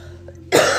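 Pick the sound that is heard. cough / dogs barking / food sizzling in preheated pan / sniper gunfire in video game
cough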